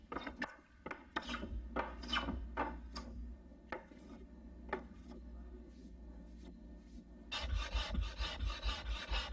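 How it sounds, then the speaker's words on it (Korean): A hand plane smooths a rough wooden board in traditional Korean wood carving. Repeated close, rasping push strokes land at a steady rhythm, growing denser and louder near the end. "거치는 나무 표면은 대패를 이용해 매끈하게 다듬는다"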